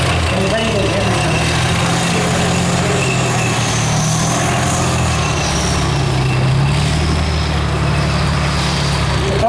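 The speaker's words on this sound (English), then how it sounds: "You probably won't hear us very well while the engine of everything is roaring" Several American tanks at a Tankfest display, engines roaring loud and steady with deep low rumble throughout, a voice talking faintly underneath.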